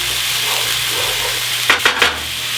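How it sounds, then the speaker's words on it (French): A hot pan hisses steadily as blueberry juice deglazes it, then three quick scraping strokes of a utensil cut through the close sizzle near the end. "le déglaçage de la poêle"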